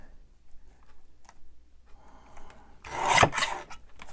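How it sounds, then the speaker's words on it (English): Scissors trimming the bottom off a paper envelope make a brief, close rasping snip near the end, after quiet handling rustles. "But I do need to cut this bottom part off of this one, because we don't need that."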